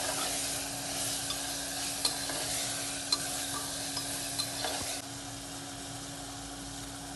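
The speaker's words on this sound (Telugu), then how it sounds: "మన బిర్యానీ మసాలా పౌడరు, వేసుకుని బాగా కలుపుకుందాం" Biryani masala powder being stirred into tomato rice in a hot pan, a steady sizzle with scraping spoon strokes and a few light clicks, close and moderately loud, with no voices.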